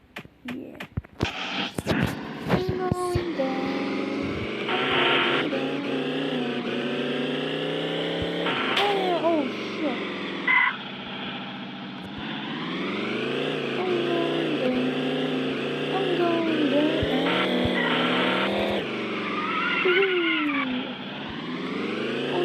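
Car driving in the video game Chicken Gun, a fluctuating synthetic engine whine rising and falling in pitch throughout, with scattered sharp game sounds and bursts at the start.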